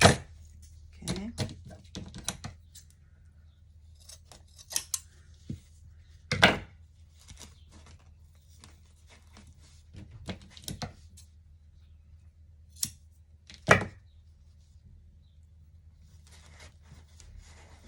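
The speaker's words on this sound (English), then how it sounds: "So you're just gonna start cutting." Scissors snipping through craft material for a handmade baby shower bear gift, a scattering of short, close, crisp cuts spread unevenly over a quiet room background.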